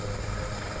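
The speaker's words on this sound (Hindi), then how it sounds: "जहां 2 हेलीकॉप्टर के माध्यम से रेस्क्यू किया गया।" An Air Force helicopter flies during a flood rescue in Raisen, a continuous loud rotor and engine roar lasting under a second, with no talking.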